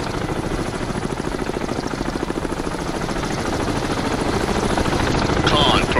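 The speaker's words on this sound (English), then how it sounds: "Let's just hope that helicopter just stays away." A helicopter in the submarine game Cold Waters gives a continuous rapid rotor chop that grows louder toward the end, steady and mechanical with no speech heard.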